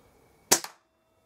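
A single air rifle shot rings out as one sharp, close crack, followed by a quick secondary snap and a brief decay into silence.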